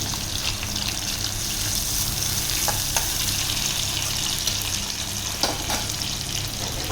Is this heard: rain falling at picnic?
no